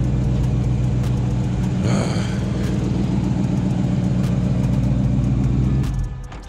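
A Dodge Charger's engine runs steadily after a remote start, a loud, even mid-pitched hum with a brief rise in revs early on, then cuts off near the end with the rumble fading.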